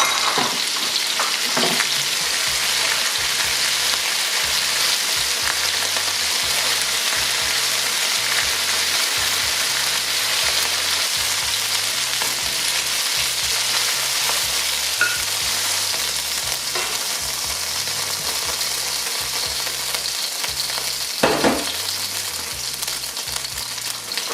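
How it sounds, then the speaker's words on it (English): Lamb pieces brown in a hot pan for a curry, giving a loud, continuous hiss and crackle throughout, with a few utensil knocks and no talking. "Have one more lot of meat to brown."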